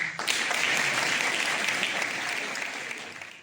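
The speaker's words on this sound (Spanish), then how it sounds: "Juanjo, este fuerte aplauso es para ti." Loud applause from a crowd at a ceremony naming an adopted son of Tejeda de Tiétar bursts in and continues steadily, a dense patter of clapping that fades slightly toward the end.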